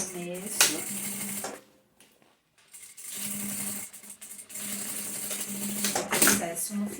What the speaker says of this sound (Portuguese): Vamos para a máquina. E vamos costurar.